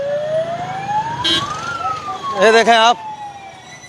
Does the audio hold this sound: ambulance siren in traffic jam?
yes